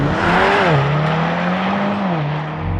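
A 2025 Mercedes-AMG GLC63s with a four-cylinder engine and nine-speed multi-plate clutch automatic pulls away hard, its loud engine tone holding and shifting pitch as it accelerates, heard close and alone.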